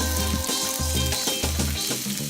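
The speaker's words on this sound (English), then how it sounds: "So now we want to add the sausage in and brown on all sides." Italian sausage browning in a cast iron pan, a loud continuous sizzle and fry with bursts of crackle and some stirring or scraping, no talk.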